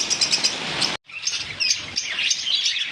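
Many lovebirds chirping together in a shop, a dense, busy chatter, close by, with a brief cut in the sound near the start.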